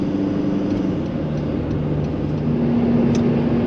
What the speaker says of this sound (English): Just thought I'd film one of them extra long trucks they've now got in Spain